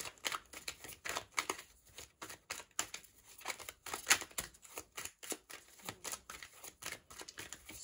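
Tarot cards are shuffled and flipped close up, a quick irregular run of papery riffles, slaps and snaps, soft and with no voice.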